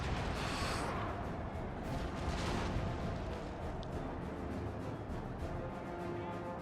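Artillery and massed musket volleys roar in Napoleon: Total War, a dense, continuous barrage of overlapping booms and crackling shots with heavier blasts rising in the first few seconds.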